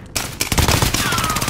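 Rapid automatic gunfire in a multiplayer shooter video game, a dense sustained burst of close, loud shots after a brief quiet opening, with no talk over it.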